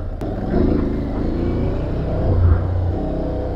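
An Aprilia Tuareg 660 adventure motorcycle runs off-road through desert sand, its engine a loud, close, steady rumble that swells briefly as it revs.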